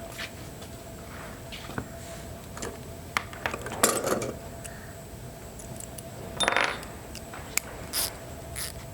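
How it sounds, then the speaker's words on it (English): Metallic clinks and rattles as bolts are removed from an outboard engine, scattered taps and small clatters over a quiet background. "Let me take off the bolts."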